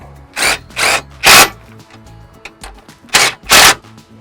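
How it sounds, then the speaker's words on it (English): A power tool drives a 13 mm socket onto a bolt on a Ford truck light adapter bracket, in about six short loud bursts with pauses between. "I'm going to tighten it up with a 13 millimeter"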